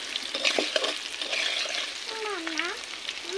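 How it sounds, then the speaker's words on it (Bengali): Potatoes frying in hot oil while being stirred in a pan for a chicken dish: a steady sizzle with scraping and stirring clatter, close and moderately loud, with a brief whistling tone near the end. "দেখো আলুগুলো আমার লাল লাল হয়ে ভাজা হয়ে এসছে"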